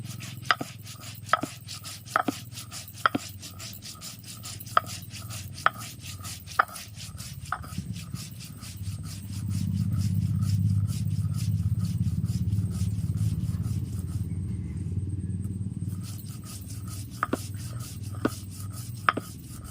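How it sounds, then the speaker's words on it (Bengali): Mustard seeds are ground on a stone in a village kitchen, with repeated sharp knocks and scraping strokes that give way midway to a longer stretch of steady, rumbling rubbing before the knocks return. "আমি এবার সর্ষেটা বেটে নিচ্ছি।"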